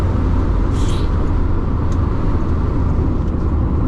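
A Mazda MX-5 Miata carries its speed through a turn without braking, heard from inside the cabin as a loud, steady drone of engine and road noise that never lets up.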